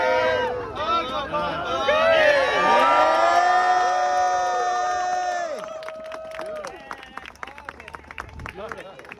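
Outdoor crowd cheering and clapping at the reveal of a new TMNT street sign and manhole cover in Dover, New Hampshire, loud whoops and shouts over dense applause that fades into scattered claps with voices talking.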